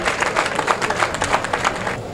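Audience members at a political gathering clap together in a brief, dense burst of steady applause, close and fairly loud throughout.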